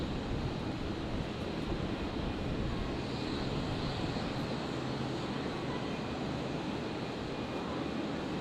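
At Brisbane International Airport on a night arrival, an Emirates Boeing 777 produces a steady, faint, distant jet roar blended with wind noise, unbroken and without voices.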